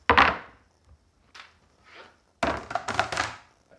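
Wooden chopping boards being set down on a kitchen counter: a loud hollow thunk, two softer knocks, then a cluster of clattering thumps as more boards land, close and with no talk.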